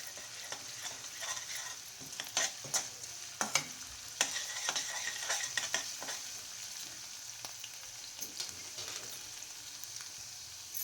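Finely chopped green chillies fry in a pan for a Chinese Manchurian dish, with a continuous bright sizzle and repeated scraping stirs and knocks of the spoon against the pan, close and clear, with no talking.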